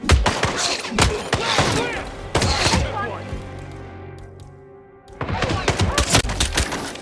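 Bursts of rapid gunfire and heavy thuds crash through a Hitman 3 firefight, several close volleys separated by a quieter stretch of ringing tones, with voices shouting among the shots.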